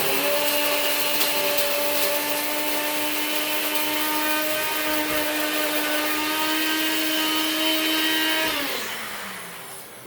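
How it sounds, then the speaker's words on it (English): A grinder pulverizes dried banana peels into powder with a loud, steady high-pitched whine lasting several seconds, then spins down as the motor stops. "I'm grinding them down to powder"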